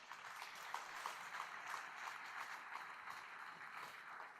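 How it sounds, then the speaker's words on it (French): Quiet, steady audience applause for municipal police at a New Year's greetings ceremony, an even wash of clapping heard from a distance for the whole stretch. "je voudrais qu'on puisse applaudir"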